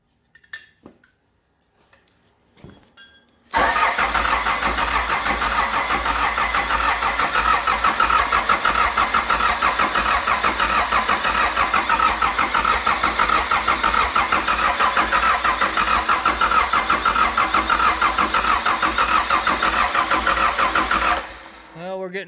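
A Cummins 3.9 4BT diesel engine, converted from a 4B with a turbo, cranks and fires into a loud, steady idle that runs for about eighteen seconds before cutting off, with some voices and clatter at the start.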